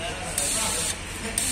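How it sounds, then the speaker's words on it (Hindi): Spray from a nozzle on a Tata Signa BS6 4825.T truck during a stop-start test with the motor running, a steady hiss that rises in two short bursts and plays under faint background noise. "स्प्रे मारने लगा"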